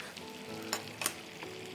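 Soft malai seekh kababs fry in hot oil with a faint continuous sizzle and a few sharper spits and pops, with no talk.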